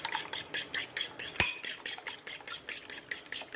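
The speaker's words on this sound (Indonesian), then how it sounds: "kita kocok semuanya agar tercampur rata" Three beaten eggs are whisked briskly in a bowl for fried rice vermicelli, a fast steady clatter of utensil against dish at close range, with no voices.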